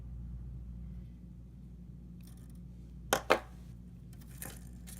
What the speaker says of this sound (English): So I'm going to be clipping our weaving wire right here.